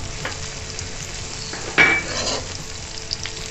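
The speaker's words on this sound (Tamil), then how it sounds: "பூண்டு போட்டு கொஞ்சம் ஃப்ரை பண்ணுங்க." Garlic frying with onions for a prawn thokku, a steady close sizzle in the pan with a sharp metallic scrape of a spoon stirring midway and faint clinks after.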